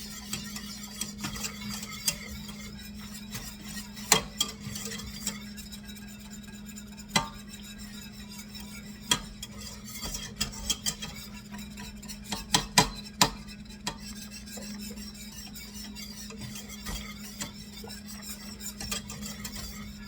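A whisk works a powdered milk mixture for a cheddar cheese soufflé in continuous close scraping, with sharp clinks and taps against the bowl at irregular intervals and no talking.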